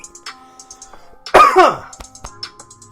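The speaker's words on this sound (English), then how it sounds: "It's like the dry cough when you ain't drunk no water or something." A single harsh, raspy cough rings out close by, set against a quiet background of faint clicks and taps.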